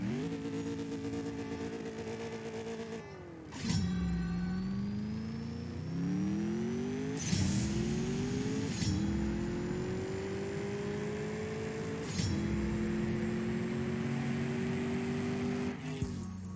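A TVR Sagaris in the CSR2 racing game launches with a loud, steady engine roar, rising in pitch through each gear and dropping sharply at several quick upshifts, a thin whine running over the top.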